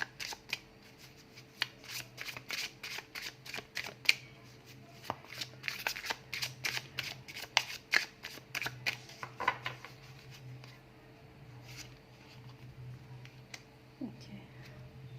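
A deck of cards is shuffled for a card reading, giving close, crisp riffles and flicks in repeated bursts for several seconds before the sound tapers off, with faint low room noise underneath.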